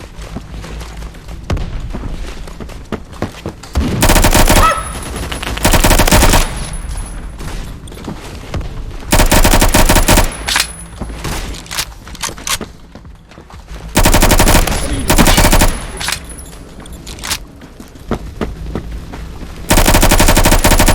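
SCAR HAMR 9mm conversion fire in the video game Phantom Forces comes as loud, rapid automatic bursts of several seconds each, separated by quieter gaps of in-game ambience and faint clicks.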